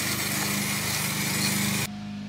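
A lawn mower runs steadily in the background with a constant engine drone, then cuts off or drops away sharply near the end, leaving near quiet.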